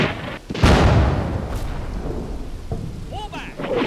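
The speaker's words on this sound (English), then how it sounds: "You can also hear them firing mortars from that position." Enemy mortar fire in the Combat Mission: Battle for Normandy video game, a heavy boom and rumble rolling out and fading, with smaller thuds and shouted voices afterward.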